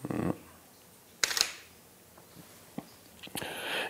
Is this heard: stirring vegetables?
no